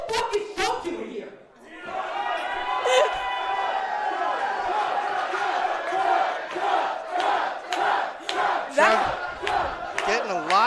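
A wrestling crowd roars and chants for Chuck at a live show, a loud sustained wall of voices rising and falling in waves, with shouts cutting through and a brief dip near the start.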